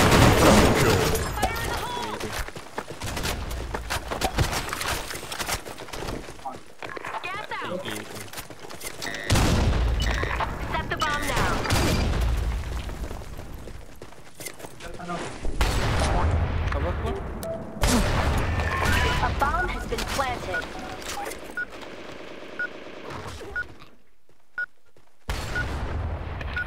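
Bursts of gunfire and explosions in the online shooter Blackshot during a competitive match, dense and continuous with a few brief pauses, while a player talks excitedly over the action.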